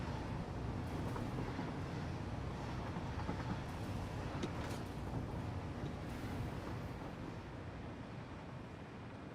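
A train rushes past in the factory-building video game Satisfactory, a dense, steady, loud rumbling roar that holds for several seconds and eases off slightly at the end.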